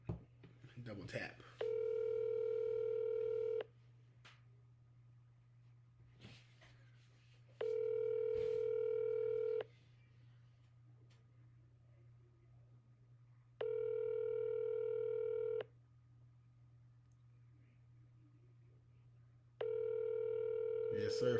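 A telephone line on an outgoing cold call to a Chicago number rings with a steady tone that comes in four evenly spaced bursts of about two seconds each, separated by quiet gaps with a faint low hum.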